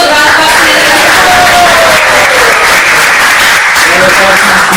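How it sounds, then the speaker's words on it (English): An audience at a devotional seminar breaks into loud, sustained applause for the event's MCs, with dense clapping filling the whole stretch. "amazing MCs, give them a round of applause."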